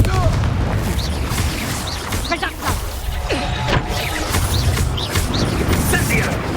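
Confringo fire spell exploding in the Hogwarts Legacy video game, a dense loud blast and crashing burst amid continuous game noise, with a character's voice shouting over it.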